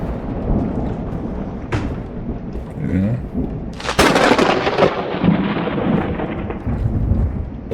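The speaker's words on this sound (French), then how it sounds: "On dit qu'ils ont bien fait les sons de l'orage" Heavy rain and rolling thunder in the video game Escape The Backrooms, a loud continuous storm wash with a sharp thunderclap cracking in midway and rumbling on, no voices.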